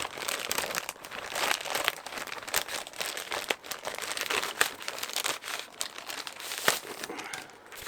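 Plastic packet being cut open and handled: steady close crinkling and crackling of plastic, with brief tearing rustles, loud and continuous throughout with no talk.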